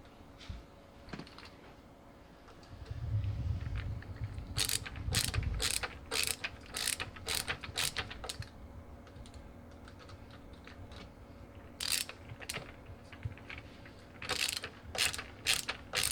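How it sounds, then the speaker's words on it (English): Screwdriver turning a screw into a piece of a REVOLO smart Wi-Fi lock, bursts of quick ratcheting clicks separated by quieter pauses, close and fairly faint. "next we are going to screw in this piece."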